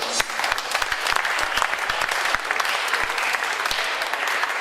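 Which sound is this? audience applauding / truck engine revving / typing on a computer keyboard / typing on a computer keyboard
audience applauding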